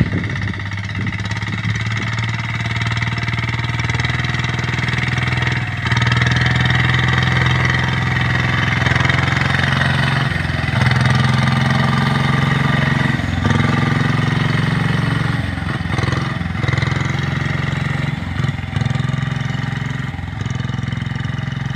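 A motorized farm cart runs in a cassava field, its engine holding a steady, smooth mid-pitched idle for the whole stretch with only slight dips, fairly close and continuous, with no talking.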